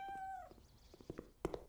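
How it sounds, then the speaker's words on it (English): A cat in the Cafe Owner Simulator video game gives one clear, drawn-out meow, followed by a few soft, quiet clicks. "Did you pet the cat? It's a really nice cat."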